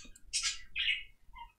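Morning birds in the Roblox game Need More Heat give two bright, close chirping calls followed by a softer short tweet, clear over near silence.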